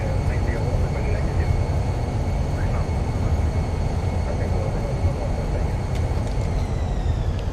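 Steady loud roar of Airbus A320 thrust reversers during the landing rollout in Microsoft Flight Simulator, a dense continuous rumble with faint tonal whines and brief speech over it.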